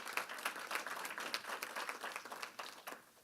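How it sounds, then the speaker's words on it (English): A crowd at a community gathering in Prince George's County gives a sustained round of applause, dense overlapping clapping that holds steady before tapering off at the end. "Can we give him another round of applause,"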